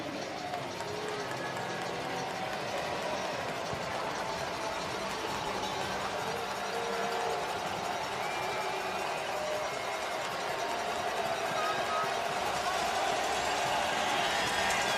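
Stadium crowd at Tim Hortons Field during a CFL football game, a dense continuous roar of many voices and cheering, steady and loud throughout with no pause.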